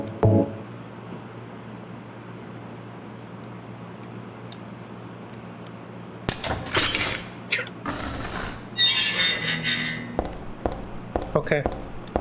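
In Silent Hill 3, a nutcracker busts a bolt. A low steady hum runs under the first half. Then come loud metallic clanks and a ratcheting mechanism grinding, followed by scattered clicks.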